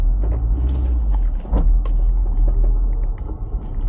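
Several Honda S2000 sports cars rev at a JDM car rental in Japan, a loud low rumble with sharp surging bursts and intermittent clattering transients across the clip.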